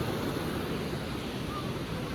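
Water rushing beside a bridge on a Maha Shivratri pilgrimage route, a steady broad roar that fills the whole stretch with no break, moderately loud, with faint background noise mixed in.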